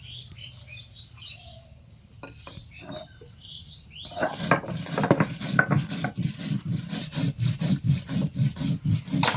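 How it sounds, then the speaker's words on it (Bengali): Cumin, coriander and dry chilli are ground on a village grinding stone with rhythmic back-and-forth rubbing strokes that start soft and grow steady and louder, while birds chirp in the background. "আমি এখানে জিরে ধনে আর শুকনো লঙ্কা একসঙ্গে বেটে নেব"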